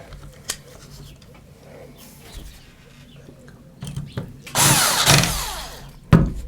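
A power drill driving screws into a Drillmaster base plate, with faint handling clicks and taps, then a short loud whir of the drill near the end and a sharp knock at the close.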